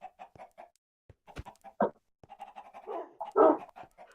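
A dog in a Minecraft-style server game, heard as a run of short, clipped barks and yips in quick bursts, with a few louder ones near the end, close and fairly quiet, no talking.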